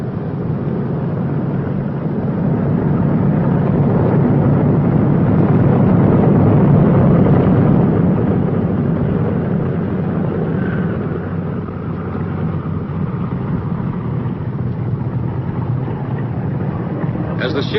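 Heavy four-engine B-29 bomber taxiing on a runway, steered with its outboard engines: a loud, continuous low piston-engine drone and rumble that swells midway and holds steady throughout, with a voice talking over it.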